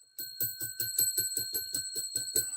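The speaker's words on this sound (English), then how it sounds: "Okay, I got to ring the bell." A bicycle-style bell rung rapidly about a dozen times in a steady rhythm, bright, sustained metallic rings, close and clear with no talk.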